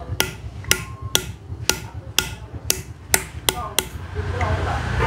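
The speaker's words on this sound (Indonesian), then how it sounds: "Kita ketuk menggunakan palu ya teman-teman" A small hammer taps on the shock absorber seal of a Mega Pro motorcycle with eight or nine sharp metallic knocks at an uneven, unhurried pace. The taps are close and clear over low background noise.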